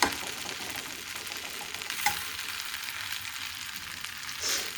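Fried rice being mixed in a hot pan, a quiet continuous sizzle with occasional spoon scrapes and a soft clink partway through.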